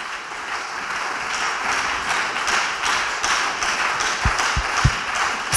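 A church congregation applauds loudly during worship, a steady dense wash of clapping with a few sharper low thumps near the end.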